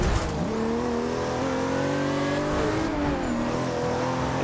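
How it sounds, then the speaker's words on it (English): Fast car in the racing video game Forza Horizon 2 roaring past with a rising, shifting engine whine and revving tones, loud and close, sweeping through changing pitch as it passes. "Fast car is driving by me."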